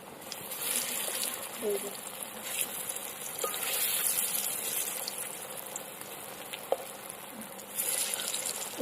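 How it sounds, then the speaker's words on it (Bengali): Prawn-stuffed green plantain koftas fry in white oil in a blackened wok, a continuous close bubbling sizzle with occasional clinks and stirring sounds, no talking. "কড়াইতে কোপ্তাগুলো ভাজার জন্য সাদা তেল দিয়ে দেবো"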